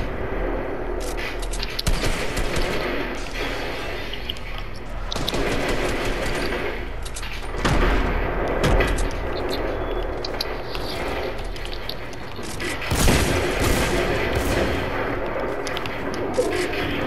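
Dense, sustained gunfire in a Fortnite match: overlapping rapid bursts and heavy booming shots roll on for the whole stretch, loud and close with no pauses.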